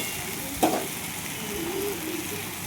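Chickpea ghugni made with kabuli chana is stirred and sautéed in a pan, a soft steady sizzle with a single clank of the spoon early on and faint scraping afterward.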